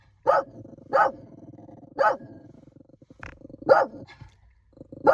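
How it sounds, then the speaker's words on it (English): A big dog gives five deep, loud barks about a second apart, with a low growl rumbling between them, close by and with no voices. "That's a big dog."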